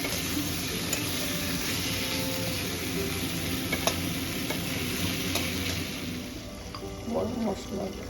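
Dal in a pan with garam masala powder and ghee added, giving a steady sizzle and frying hiss with soft stirring scrapes throughout, close and continuous, with a few brief clinks near the end.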